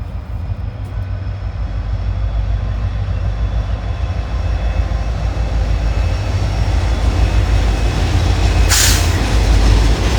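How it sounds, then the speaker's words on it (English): A train rolls past near a railroad crossing, a loud, steady low rumble that holds for the whole stretch, with a short burst of hiss near the end and no voices. "we got a train coming right there"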